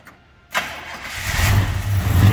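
A 1972 Pontiac GTO Judge cranks after a short pause, catches with a sharp burst and settles into a loud, rumbling V8 idle close by.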